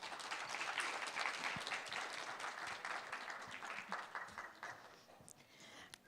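Conference audience at a Seoul future-of-work event applauding to welcome a Deloitte Consulting speaker, a moderate, steady patter of clapping from a hall that thins out near the end.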